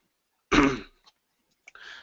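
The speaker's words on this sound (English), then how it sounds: "I apologize with my voice here cutting in and out and clearing my throat" A single sharp throat clearing, close and fairly loud, followed by a brief faint rasp and quiet breathy noise.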